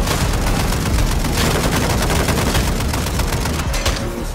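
Sustained, dense automatic gunfire from Call of Duty Warzone 2.0 in Armor Royale mode, a loud, close barrage of rapid shots that continues without a break.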